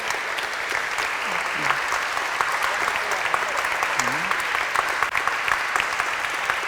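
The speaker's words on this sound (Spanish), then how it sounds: "ese aplauso para todos los gurises." Steady crowd applause for children at a parish nativity scene presentation, continuous dense clapping with a few voices mixed in underneath throughout.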